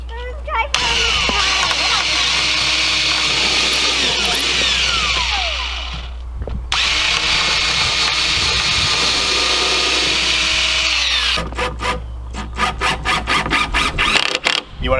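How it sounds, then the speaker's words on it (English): Power drill boring pilot holes through the ends of a wooden chicken brooder: a loud, steady, close motor whine that stops briefly and resumes, then breaks into a run of short pulsing bursts near the end. "So now we're going to drill some pilot holes through both ends and cinch this all together."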